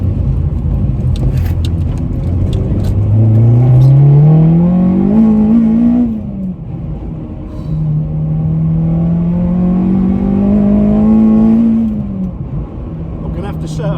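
A K24-swapped Honda Civic Type R pulls hard in second gear from inside the cabin, its engine loud and droning. It climbs steadily in pitch through two long rising runs, separated by a brief dip between shifts.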